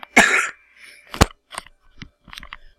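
A person with anxiety coughing: one hard, harsh cough, then a second sharp burst a moment later and a few lighter hacking coughs and throat sounds, close and loud with no speech.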